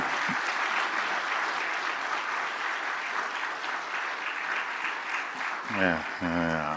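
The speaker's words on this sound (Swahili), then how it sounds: "Makofi mengi." Sustained applause fills a hall at the handover of a commission report to the President of Tanzania, steady and moderately loud, with a voice speaking over it near the end.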